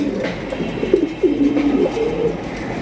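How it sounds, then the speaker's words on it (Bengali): A pair of large, good-sized Indian Kakji pigeons coo softly and repeatedly at close range, low throaty calls rising and falling over a steady background hum. "এখানে রয়েছে একজোড়া খুবই সুন্দর কাকজি কবুতর দেখতেই পাচ্ছেন"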